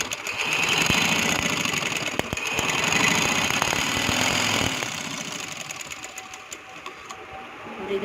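A sewing machine runs along the edge of a pair of square-cut trousers, a steady, loud mechanical whir of stitching that eases slightly in the second half, with no talking.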